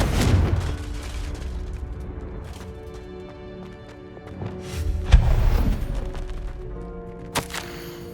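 A Confringo blast spell explodes in the Hogwarts Legacy video game, a loud booming burst over a rumbling game backdrop, followed by smaller impact hits and a sharp crack near the end.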